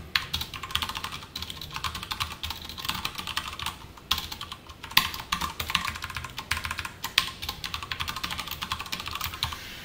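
Java code is typed on a computer keyboard in a fast, continuous stream of close, bright key clicks lasting the whole stretch, with only brief gaps and no voice.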